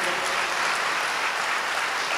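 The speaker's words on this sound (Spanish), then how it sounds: "Un aplauso para todos los voluntarios que fueron," A church congregation applauds volunteers during a Christian sermon, a dense, steady wash of clapping filling the room without pause.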